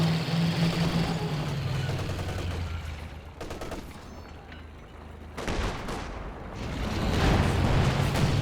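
A land mine going off in the video game Company of Heroes 2, heard as a dense rumbling blast mixed with battlefield gunfire that eases in the middle and then swells again, loud and steady with no talking.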